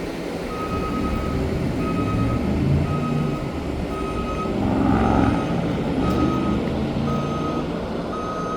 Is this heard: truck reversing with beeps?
yes